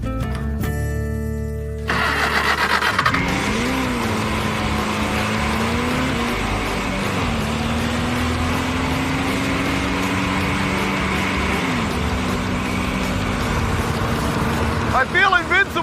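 A dune buggy engine runs close by. It rises from a rough start into a loud, steady drone, with the pitch climbing and dipping as the throttle changes, and voices may be talking over it.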